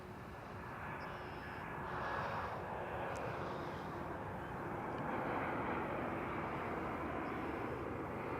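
Embraer E195 airliner departing Toronto's airport, a steady broadband engine roar that holds loud and even across the whole stretch with no voices over it.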